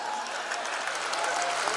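An audience at a comedy poetry recital (kavi sammelan) in Raipur breaks into steady, fairly soft applause, a continuous patter of clapping hands lasting a couple of seconds.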